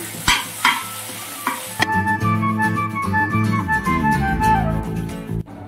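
Ginger and garlic are stirred in a hot pan, with a few sharp scrapes and clanks of a spoon at first, then a loud steady sizzle as they fry under continued stirring, close by.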